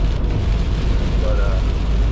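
Rain from a tropical storm hits a window in a dense, steady hiss that fills the whole moment with constant wash and no breaks.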